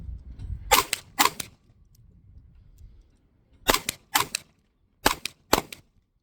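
Six sharp pistol shots fired at a distant target, heard as two pairs and then a third pair, loud and close with quiet gaps between them and no talking.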